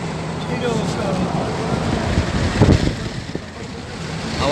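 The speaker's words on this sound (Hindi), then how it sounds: "कितनी तेज हवा चल रही है, यहाँ बहुत ठंडा मौसम है।" Strong wind on a cold day on the road near AlUla, Saudi Arabia, roars in a constant broadband rush with buffeting against the microphone, with traffic noise mixed in and a brief voice partway through.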